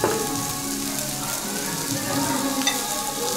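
Steady sizzling and crackling of meat frying on a grill, a dense hiss running throughout with no talking.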